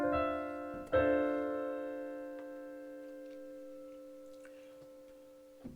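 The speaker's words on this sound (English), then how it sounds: "some more examples using this minor ninth chord" A minor ninth chord struck on a keyboard-like instrument, with a short first attack and then a second stronger strike that rings out and slowly decays over several seconds, alone and fairly quiet.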